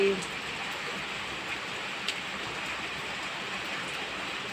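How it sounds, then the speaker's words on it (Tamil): Steady rain falls in a constant soft hiss, moderately loud and even throughout, with a faint voice briefly underneath. "இந்த மழை எப்படி பெய்யுது பாருங்கள்"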